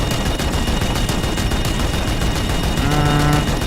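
An anti-personnel gun in a video game fires at a Reaver, a dense, unbroken burst of rapid gunfire that stays loud and close from start to finish with no voices.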